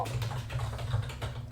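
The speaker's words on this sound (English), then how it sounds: "Brian is there furiously typing away and writing" Rapid typing on a computer keyboard, a continuous flurry of soft key clicks over a low steady hum, close and alone without speech.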